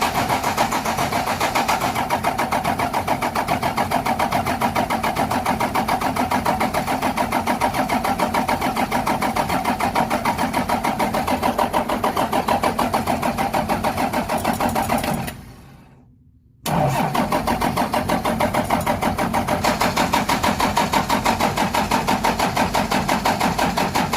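A 12-valve Cummins diesel truck engine cranks in a long, loud, continuous churn that cuts out briefly around 15 seconds, then resumes cranking without settling into a clean idle.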